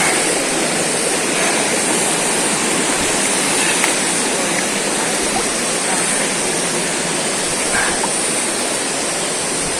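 A river in General Nakar, Quezon, rushes loudly and without a break during a crossing over stones, a dense, unbroken roar of moving water close by.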